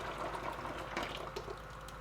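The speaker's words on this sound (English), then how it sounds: "all I gotta do is pour it into the bucket" Thick banana puree pours and splashes softly into a bucket for a couple of seconds, quiet and close, with no talking.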